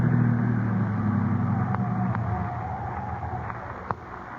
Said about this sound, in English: I'll drive the car off the road.